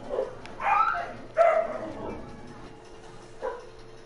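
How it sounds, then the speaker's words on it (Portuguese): Several dogs bark and yip in a yard while hunting something, giving a few scattered barks at moderate distance with pauses between them against a quiet background. "Os cachorros estão caçando alguma coisa no quintal."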